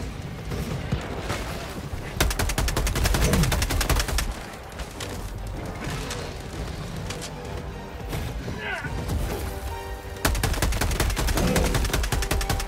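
Rapid gunfire in the video game Helldivers 2, with dense bursts of automatic shots and blasts running through nearly the whole stretch, loud and sustained, under a speaking voice.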